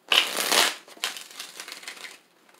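Close-up riffling and slapping of tarot cards being shuffled, a few quick bursts that taper off into quiet.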